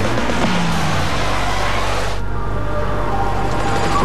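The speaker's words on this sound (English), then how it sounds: "2004 Pontiac Grand Prix with 260 horsepower to help you get the most out of your ride." A 2004 Pontiac Grand Prix with a 260-horsepower engine, heard as a steady, loud engine roar that holds constant and then drops into a lower, duller rumble.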